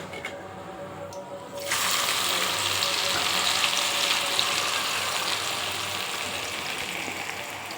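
Grated mango hits hot oil with spices and garlic paste for a mango pickle, setting off a sudden loud, steady sizzle after a quiet start that stays dense and close to the end.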